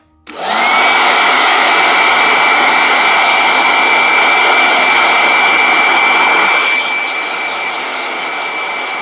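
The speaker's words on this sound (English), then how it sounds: "All right, blow dryer." A hair dryer switches on abruptly and blows loudly and steadily with a high whine, then eases slightly lower near the end.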